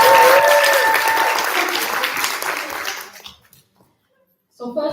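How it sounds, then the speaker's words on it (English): An audience applauds panelists at a community event, a loud, dense burst of clapping that gradually thins and fades out over about three seconds, followed by silence and a voice starting to speak. "We'll get a round of applause for them."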